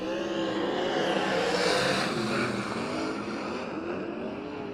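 Six USAC Southwest sprint cars thunder around Central Arizona Speedway at the start of a heat race, a loud, sustained engine roar swelling and fading slightly as they pass.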